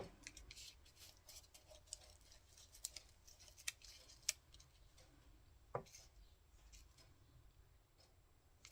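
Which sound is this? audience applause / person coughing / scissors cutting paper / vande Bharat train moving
scissors cutting paper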